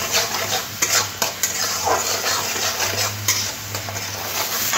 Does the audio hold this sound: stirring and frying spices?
yes